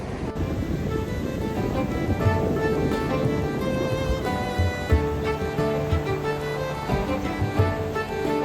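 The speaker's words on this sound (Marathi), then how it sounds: "तर आता आपण आलोय देवगड बीचला" Sea waves at Devgad beach, a steady, close roar of surf mixed with wind noise on the microphone and a faint tonal hum running underneath throughout.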